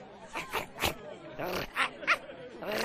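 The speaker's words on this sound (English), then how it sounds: "Got some fine puppies here." Puppies in Minecraft Story Mode give a series of short whimpers and yips, close and moderately loud, with game speech nearby.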